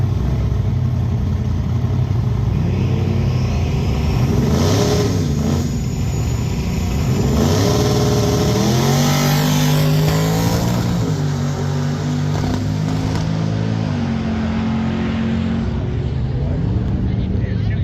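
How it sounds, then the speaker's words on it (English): A supercharged 1969 Mustang at a drag race in northern Michigan drones loud and near, its engine note climbing and settling through several rev swells over a continuous rumble. "1969 Supercharged Mustang."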